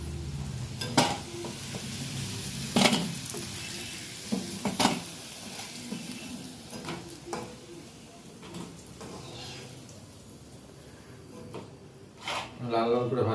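Large boal fish, about 3 to 3.5 kg, fries in oil with a soft sizzle. Scattered clinks and stirring sounds rise above it while someone talks throughout.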